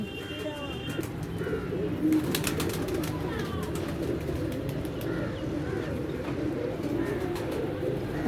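Pigeons in a rooftop cage giving soft, repeated cooing calls amid light chirps and flutters, moderately close, over a steady background hum with occasional sharp clicks.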